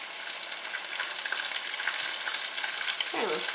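Chicken fingers and sautéed vegetables fry in a pan, giving a steady close crackling sizzle throughout with occasional stirring scrapes, no voices.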